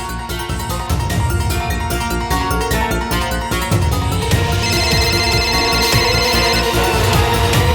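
A loud, steady mobile phone ringtone plays continuously with a repeating melodic pattern, close and clear, no voices.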